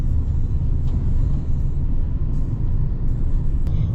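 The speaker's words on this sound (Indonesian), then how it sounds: "Saatnya naik bus ke tujuan selanjutnya." Steady, loud low rumble of a bus engine and road noise during a ride from Awana Station in Genting, Malaysia, droning continuously without a break or any voices.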